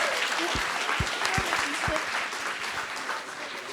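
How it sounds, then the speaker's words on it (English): A small group at a dementia men's group meeting gives a warm round of applause, steady clapping throughout with a few low thumps, close by and moderately loud. "Would you give this man a warm round of applause?"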